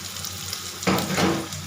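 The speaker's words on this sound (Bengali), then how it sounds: "দিয়ে ভালো করে নাড়াচাড়া করে নেবো।" Food frying in a pan gets stirred, with a steady sizzle that swells into a louder, scraping burst of stirring about halfway through, close and continuous.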